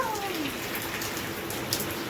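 Heavy rain pours down in a dense, unbroken hiss, loud and constant throughout.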